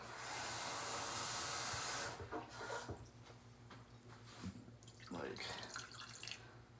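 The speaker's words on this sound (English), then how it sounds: "And then I'm gonna add a cup of water." Water poured from a cup into a cooking pot of ketchup on a stovetop, a loud hissing splash for about two seconds, then quieter drips and clinks in a kitchen.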